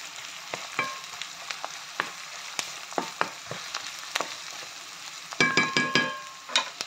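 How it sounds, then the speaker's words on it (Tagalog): Ginger sautéing in a pan for paklay: steady close sizzle with repeated sharp scrapes and knocks of stirring, ending in a brief burst of rapid clattering. "Gisa-gisahin uli. Hanggang lumabas yung aroma ng luya."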